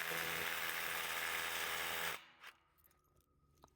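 A power drill bores a hole for an anchor for skid steer attachment storage, running loud and steady for about two seconds before cutting off, followed by a few faint knocks and handling noises.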